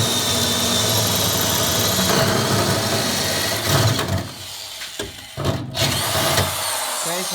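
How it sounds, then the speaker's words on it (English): A power drill bores a hole through the floor of a G-body car during an air ride install, a loud continuous grinding whine close by that cuts off and restarts in short bursts near the end. "So right now we're drilling the hole to put it in the floor."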